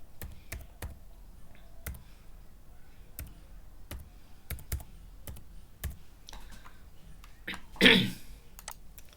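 A mobile number tapped out on a computer keyboard: sparse, crisp individual keystrokes at irregular intervals, close by in a quiet room, with a brief louder burst near the end.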